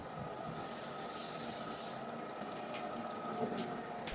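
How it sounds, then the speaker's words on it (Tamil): Mustard seeds splutter in hot oil for a garlic-pepper kuzhambu, making a continuous, fairly faint sizzling hiss with scattered small pops close by and no speech. "நம்ம கடுகை போட்டுக்கலாம்."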